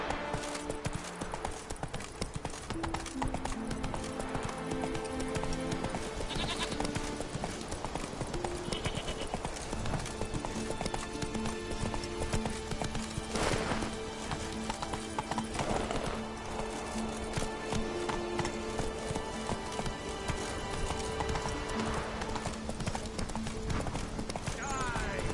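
Hooves clip-clop in a rapid, steady gallop as the horse Roach runs in The Witcher 3: Wild Hunt. Game music and ambience sit beneath it, and a voice speaks over it.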